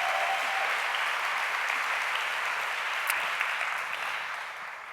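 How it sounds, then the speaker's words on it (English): An audience at a fashion conversation event breaks into steady, full applause, a dense wash of clapping that holds evenly and tapers slightly at the close. "Stephanie also deserves a round of applause"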